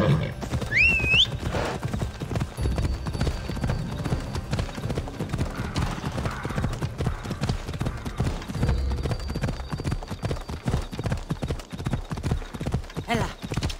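Horse hooves clip-clop in a steady galloping rhythm across the Assassin's Creed Odyssey game world, with a brief whinny near the start and continuous ambient game sound beneath.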